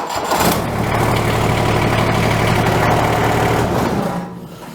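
A tractor engine cranks and catches after its battery connections are cleaned and reinstalled, then runs in a loud, even, rapid idle close by before the sound cuts down near the end.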